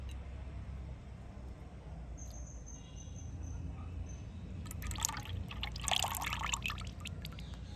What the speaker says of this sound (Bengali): এবার একটা পাত্রের মধ্যে আমি এইভাবে ঢেলে নেব।